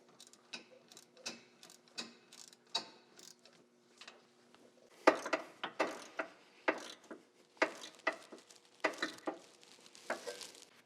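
Ratchet wrench clicking in quick bursts while loosening the four 14mm hub bolts on a 2010-2014 Subaru Outback/Legacy wheel hub assembly, nearby and moderately loud, with brief pauses between strokes and no talking.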